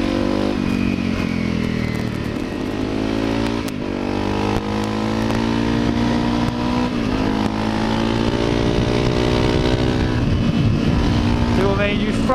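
Honda CRF250L dual-sport motorcycle on a road, its single-cylinder engine droning loud and steady up close with shifting revs and wind rush, occasional clatter, no talk.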